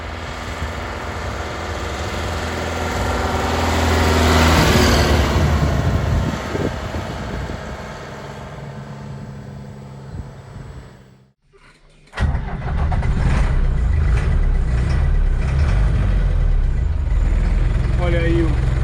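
Mercedes OM324 diesel in a 1965 Toyota Bandeirante, idling with a loud, steady clatter, briefly cutting out, then restarting and running on, while someone talks over it.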